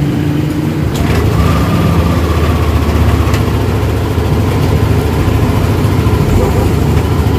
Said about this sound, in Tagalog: umandar naman yung motor natin